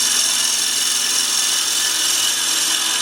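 A steady, continuous hiss of a turning tool scraping spinning wood on a lathe while shaping an angel ornament, constant and fairly close with no pauses.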